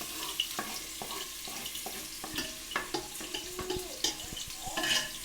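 Onion tipped into hot oil on a home stove, the frying gives a soft steady crackle under scattered clinks, taps and stirring knocks, with a faint trickle of running water in the background.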